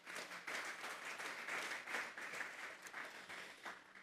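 A church congregation at a Thursday doctrine service gives a strong round of applause to the Lord, a quiet, even patter of many hands clapping that continues throughout.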